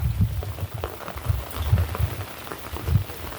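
Rain falls steadily at Devgad harbour creek, a soft continuous patter with a few heavier drops close by, no voices over it.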